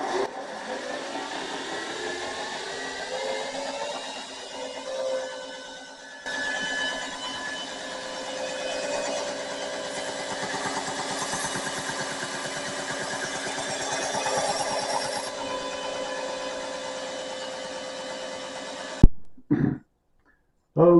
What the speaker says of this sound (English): I use a jig to cut my bevels